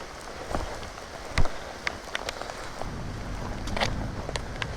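Heavy rain falls hard by a road near Bhalulata, an even wash of hiss with scattered loud splats and knocks of drops striking nearby surfaces, no one talking.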